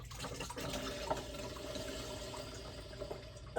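Rinse water being poured out of dive gear through a hose, a steady splashing, gurgling flow close by that runs continuously without talking.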